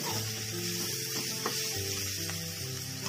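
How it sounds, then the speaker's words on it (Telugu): Sliced carrots sizzle steadily in a hot oil pan while being fried for a Telugu-style carrot fry, a close, even hiss with faint stirring scrapes and no voices. "బాగా ఫ్రై అయ్యిందాక ఇట్లానే వేయించుకోవాలి"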